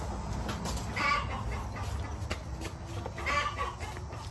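Chickens cluck softly in short bursts over a low outdoor rumble, nearby but not loud.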